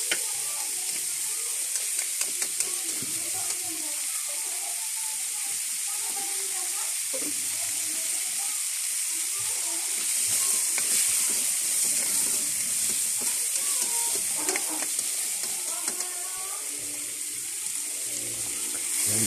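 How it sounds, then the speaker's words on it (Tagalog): Onion and garlic sautéing in a pan, a continuous bright sizzle with scattered stir and scrape sounds and a brief run of water, while a voice speaks quietly at intervals underneath. "gisa-gisa po yung sibuyas. Tsaka si bawang"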